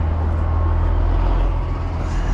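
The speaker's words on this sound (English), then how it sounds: "Got the dump truck in here." A dump truck at a jobsite rumbles steadily nearby, its engine a loud, continuous low drone with no speech over it.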